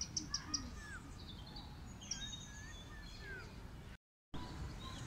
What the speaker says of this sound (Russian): Послушайте, как птицы поют.